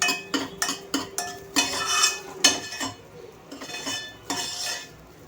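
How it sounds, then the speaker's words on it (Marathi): Rice being stirred and sautéed in a metal pot over a low flame for kheer: a spoon scraping and clinking against the pot in a quick run of knocks, then slower scrapes with a soft sizzle underneath, close up and without talking. "तर आता मी लो फ्लेमवरती ह्याला छान असं परतून घेणार आहे"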